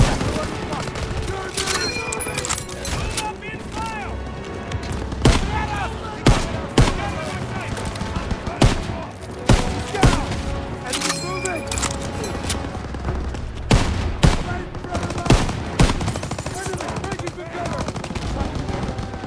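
Gunfire from the World War 2 shooter Call of Duty WW2 crackles in dense machine-gun bursts and loud single shots with occasional booms, while soldiers shout over the battle.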